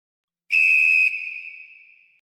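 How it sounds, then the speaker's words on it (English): A single referee-style whistle blown in one sharp, loud blast close by, holding strong for about half a second before its shrill tone rings out and fades over a second or so, with no one talking. "Talk about it after the whistle."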